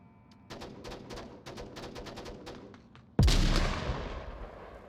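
Gunfire in the Onward VR shooter game: rapid bursts of sharp shots crackle in sequence, then a heavy, loud blast that rings out and slowly decays.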